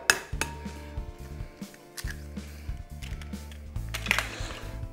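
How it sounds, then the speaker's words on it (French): Eggs cracked for a monkfish terrine, with a series of sharp knocks and clatters of shell against a bowl in an uneven rhythm, alongside occasional clinks of kitchen utensils. "Casser les œufs."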